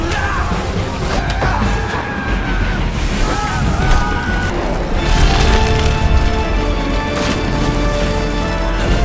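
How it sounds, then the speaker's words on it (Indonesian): The Kraken smashes a ship in a film scene, a loud, dense barrage of cracking, splintering wood and crashing impacts mixed with roaring, yelling voices and churning water, continuous and chaotic throughout. "tiba-tiba makhluk berukuran besar datang dan langsung menghancurkan seluruh kapal tersebut"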